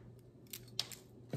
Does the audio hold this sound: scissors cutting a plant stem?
yes